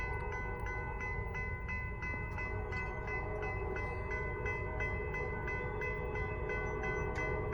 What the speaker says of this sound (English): looks like P09's the next train